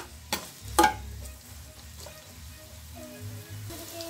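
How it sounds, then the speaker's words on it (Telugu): Onions fry in hot oil in a pan for an egg fried rice dish, giving a soft, steady sizzle that is broken by a couple of sharp clanks and stirring scrapes, all close and fairly quiet. "ముందుగా అయితే ఇప్పుడు ఆనియన్ వేసుకున్నాం కదా, బాగా అవి రోస్ట్ అయ్యేంత వరకు మనమైతే ఆయిల్లో వేయించుకుందామండి బాగా"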